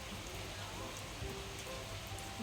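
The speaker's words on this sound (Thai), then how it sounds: "ฝนตกนะ ตก ฝนตกฝนตกนี่นะคะ" Steady rain falls during a storm, a dense continuous hiss with no single drops standing out, heard alone with no one talking.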